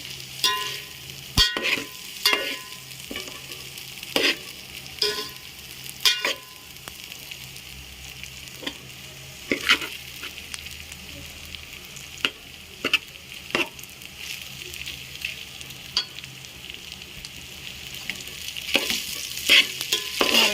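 Leftover cooked rice is stirred and mixed in a pan for a Gujarati vagharela bhat, with a soft continuous sizzle under irregular scraping and clinks of a spoon against the pan, close up and without talk.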